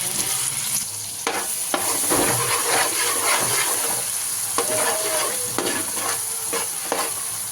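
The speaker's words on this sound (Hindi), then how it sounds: "तो देखो ये प्याज फ्राई होगी" Onions frying in a pan in a home kitchen, a steady close sizzle with occasional stirring scrapes and clinks breaking through.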